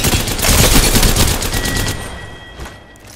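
Rapid automatic gunfire from an Apex Legends battle royale match, a dense burst of repeated shots for about two seconds that thins into scattered fainter shots near the end.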